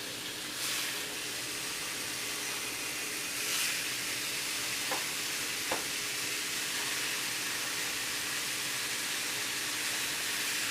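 Lamb loin and shoulder chops, heavily coated, sizzle steadily in a pan with a constant broadband frying hiss and a few faint clicks and pops, close and even throughout.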